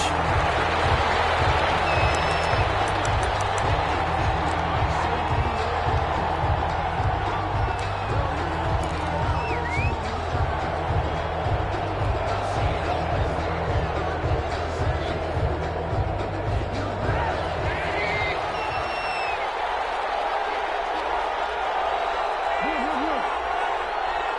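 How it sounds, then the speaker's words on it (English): In a PS4 football video game, Patriots vs Colts, a simulated stadium crowd cheers in a steady roar over rhythmic low thumping. The thumping fades out near the end, leaving a thinner crowd wash. "This crowd is ready as their guys get set to match up between the New England Patriots and the Indianapolis Colts."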